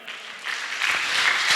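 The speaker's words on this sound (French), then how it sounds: "Une acclamation au Seigneur." A congregation at a Sunday school service breaks into applause acclaiming the Lord, clapping that swells gradually over a brief moment, moderately loud and building toward the end.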